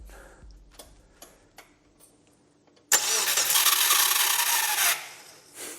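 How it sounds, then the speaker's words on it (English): Starter motor cranking a rebuilt Subaru Brumby engine with no fuel or spark: a few faint clicks, then a loud, rough grinding whir that runs for about two seconds and cuts off. "Like an unhappy starter motor."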